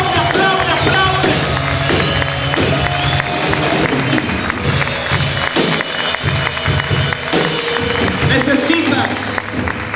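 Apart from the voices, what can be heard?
church congregation applauding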